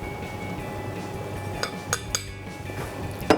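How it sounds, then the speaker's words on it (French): Flour and baking powder being stirred together in a bowl for a Victoria sponge cake, soft scraping and rustling with a few light clinks of utensil against the bowl, close and alone. "Je vais commencer par mélanger la levure chimique à la farine, je la répartis bien dedans."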